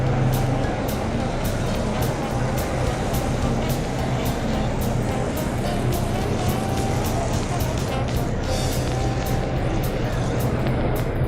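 A 1948 Offenhauser-powered race car, the number 10 Offie, rolls out for practice. A continuous loud engine drone with a steady low rumble and broadband roar is heard throughout.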